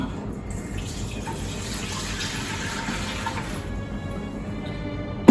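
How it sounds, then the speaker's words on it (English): A steady rush of running tap water rinses out a pot while making elderberry syrup. The flow is continuous and moderately loud for about four seconds, then eases off, with a short knock at the very end. "I'm gonna rinse this out real quick."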